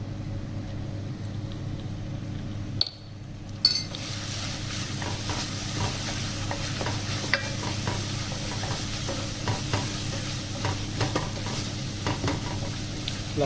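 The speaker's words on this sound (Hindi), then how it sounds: "लहसुन अदरक को थोड़ी देर पकाना है।" Garlic ginger paste frying with golden brown onions, giving a steady close sizzle broken by a spoon scraping and stirring through it, with a brief lull near the start and no talk.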